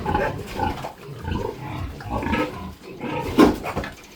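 Pigs on a farm at feeding time grunt and squeal in a dense, continuous chorus, close and fairly loud, with a sharper squeal standing out near the end.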